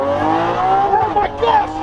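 Nissan GT-R engine revving hard during a launch: a loud, sustained roaring drone with rising tones and tire noise, continuous and close throughout.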